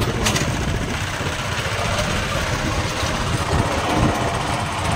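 A 7.5 HP petrol power weeder engine runs continuously outdoors on a farm, a steady, close mechanical chug with a rough vibrating rattle and no talking over it.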